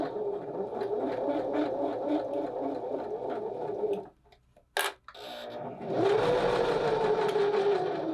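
A sewing machine stitching a cosplay costume: a steady mechanical whir with rapid rhythmic needle pulses, a pause with a brief clunk, then the motor spins up again to a louder, higher hum.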